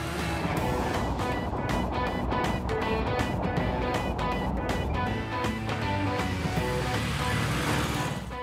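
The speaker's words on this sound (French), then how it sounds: "rouler cheveux au vent avec comme seul bruit de fond le chant des oiseaux et le ronronnement de notre moteur" A 1958 Porsche 356 Cabriolet driving with the top down, a continuous mid-level engine hum mixed with wind rush and rapid fluttering, steady throughout with a voice talking over it.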